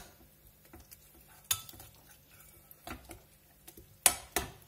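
Tuna and chive pancake batter stirred in a bowl, soft sparse scraping with a few sharp utensil knocks against the bowl, close and quiet, no talk.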